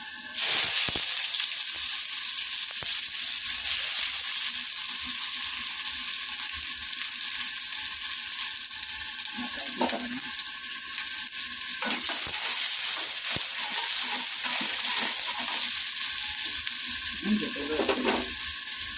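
Onion sizzles steadily in hot oil with fenugreek seeds and four cloves of garlic, a loud continuous hiss up close with a few scraping stirs, and no talking.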